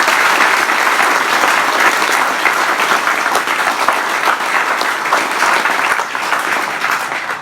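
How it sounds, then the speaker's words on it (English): A crowd at a city's State of the City address gives loud, continuous applause, a dense wash of clapping that holds steady for several seconds and fades slightly at the end. "I'm just going to ask you to do a round of applause"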